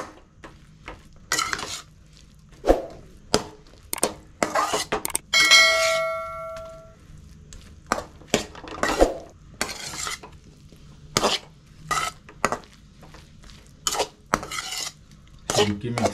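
Egg and bread stirred together in a pan for butter garlic bread, a run of repeated clinks and scrapes of a utensil against the pan with short gaps between them, plus a brief ringing metallic tone partway through.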